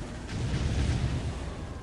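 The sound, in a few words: explosions in the video game Dawn of War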